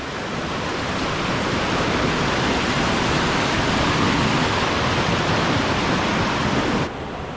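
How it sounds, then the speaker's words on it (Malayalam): A steady, loud roar of water pours down a shallow waterfall at Kanniyar Kayam, a broadband rush that holds constant for several seconds before easing slightly near the end, with no voices over it. "സൂപ്പർ വെള്ളച്ചാട്ടം തന്നെയാണ്."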